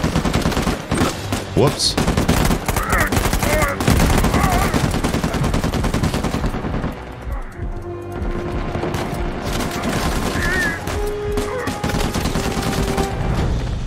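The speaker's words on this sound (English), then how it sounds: "Another minigun." Sustained minigun fire in Uncharted 4, long dense bursts of rapid shots ringing out loud, easing slightly toward the end, with someone briefly speaking over the gunfire.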